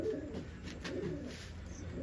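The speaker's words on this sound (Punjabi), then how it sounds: "ਕਬੂਤਰ ਆਏ" Soft cooing of pigeons nearby, low rounded calls repeating over faint background noise.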